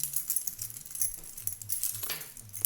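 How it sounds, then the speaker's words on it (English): A set of keys is jingled by hand near a phone recorder, making a continuous, fairly quiet metallic rattle with irregular clinks throughout, heard alone. "Say I'm going to record me jingling my keys around, right?"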